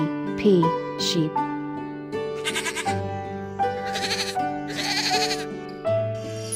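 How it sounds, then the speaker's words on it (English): A farm sheep bleats several times, with clear wavering cries close by over a cheerful musical backing. "S-H-E-E-P, sheep."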